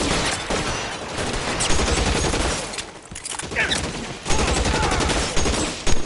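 Dense, close gunfire in the crime video game L.A. Noire: a sustained volley of rapid shots rattles on for several seconds with little pause, loud throughout, with no talk.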